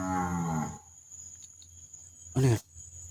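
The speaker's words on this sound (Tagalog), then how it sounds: "Ano yun? kalabaw." Water buffalo (carabao) lowing outdoors, one long moaning moo at the start and a second shorter, louder moo near the end, with a steady insect hum in the background.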